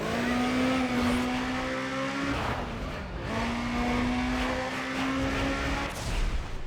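A Honda drag car in Need for Speed ProStreet accelerates hard on nitrous, its engine droning loud and steady with a rising whine that drops at a gear shift and climbs again, with no talk over it.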